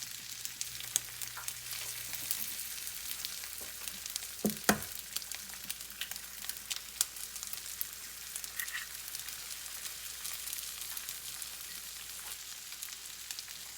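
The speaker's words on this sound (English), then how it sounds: "I'm gonna crack an egg. I like a really eggy fried rice, so I'm gonna do 2 eggs." Two eggs hit a hot pan for fried rice, and a sharp crack stands out partway through. Around it, a steady close sizzle of frying runs throughout, with scattered pops and small scrapes.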